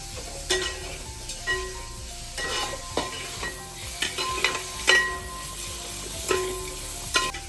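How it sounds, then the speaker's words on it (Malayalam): Boneless chopped chicken pieces fry in a pan for mushroom pasta, giving a steady close sizzle broken by repeated clinks and scrapes of a utensil stirring against the pan. "നമുക്ക് അതിലോട്ട് ചെറുതായി കട്ട് ചെയ്ത ചിക്കൻ പീസസ് ഇട്ട് കൊടുക്കാം ഇത് ബോംലെസ് ചിക്കനാണ്"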